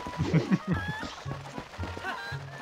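Chickens cluck in a chicken coop in the video game Zelda: Twilight Princess, several short bursts rising and falling over background game sounds.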